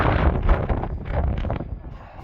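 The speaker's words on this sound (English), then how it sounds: "it's cold and windy out" Cold wind gusts outdoors at a longsword fencing session, buffeting the microphone with loud, rumbling broadband bluster that eases slightly toward the end.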